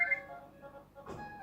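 A phone rings faintly in the background, a steady electronic tone that fades briefly and then sounds again.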